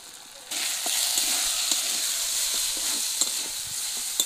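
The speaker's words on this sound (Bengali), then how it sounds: "মশলাটা ভালো করে কষে নিয়েছি" Spice paste frying hard in a pan: ginger-garlic paste, turmeric, coriander powder, a little chili powder, salt and garam masala. A loud, dense sizzle starts abruptly and holds steady, with faint stirring ticks and no talking.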